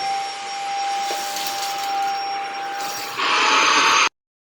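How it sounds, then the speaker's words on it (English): A Shark vacuum cleaner runs with a steady whine and high tone, its airflow roughening and growing louder near the end before cutting off abruptly. "Next, you'll want to vacuum up the mess."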